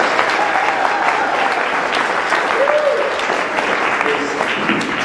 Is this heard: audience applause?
yes